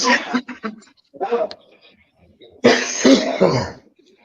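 A person coughs and clears their throat a few times, with people talking nearby.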